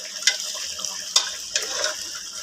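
Chicken curry being stirred in a pot, a quiet sizzle underneath with a few sharp scraping clacks of the spoon spaced irregularly, no talk.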